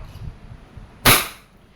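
A Wingun 708 airsoft revolver fires one single-action shot loaded with .30 plastic BBs, a single sharp crack with a short decaying tail after quiet handling noises.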